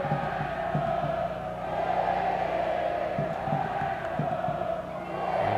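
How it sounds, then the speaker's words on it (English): Supporters at an Orlando City SC home football match against the Richmond Kickers keep up a steady, loud crowd roar, a continuous wash of cheering and chanting with no clear breaks. "impressive vocal noise from the supporters, as it is at every home game"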